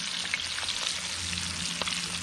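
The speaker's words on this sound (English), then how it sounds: "Frying up some of these fish." Shellcracker fish fillets frying in a hot pan on a riverbank, a steady close sizzle and crackle with faint spattering pops, no talking.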